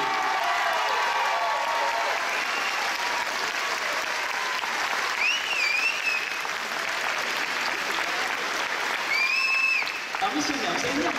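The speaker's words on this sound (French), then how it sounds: "Alors merci de faire un tonnerre d'applaudissements" Sustained audience applause fills an evening event in Vichy as the mayor is welcomed, a steady, dense wash of clapping hands throughout, with faint whistles or cheers rising briefly near the end.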